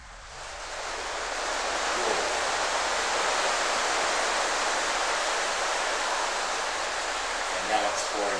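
Heavy rain pours outside a house at night, a dense, even roar of broadband hiss that swells in slightly and holds steady and loud throughout.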